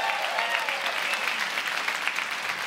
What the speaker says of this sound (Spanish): ¡Aplauso a los venezolanos!